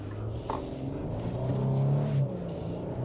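A Toyota Sequoia, Nissan Armada or Dodge Durango Hellcat SUV accelerating from inside the cabin, a steady low engine drone that swells and rises in pitch midway before easing off, loud and continuous with no talking.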